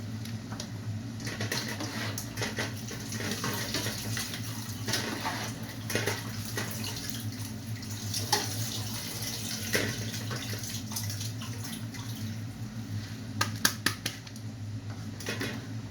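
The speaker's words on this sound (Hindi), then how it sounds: "इसमें अब मैं पानी निकाल के चावल डाल रही हूँ" Water being drained from a cooking pot before rice goes in for mutton pulao: a continuous trickling, splashing flow with scattered small clinks near the end, close and fairly quiet, with no speech.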